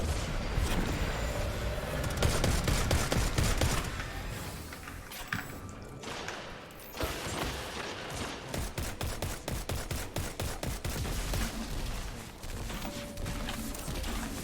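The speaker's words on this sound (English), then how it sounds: "that's definitely an auto rifle" Auto rifle fire in a video game, long rapid bursts of sharp, evenly spaced shots, loud and near, broken by short pauses and mechanical clatter, with no one speaking.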